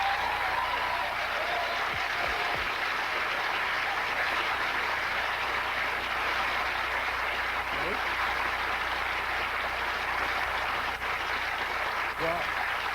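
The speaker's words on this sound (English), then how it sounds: "you can see by the sound of the applause" Sustained applause from a studio audience at a television comedy show rolls on evenly and loudly for the whole stretch, broken only by a few brief voices.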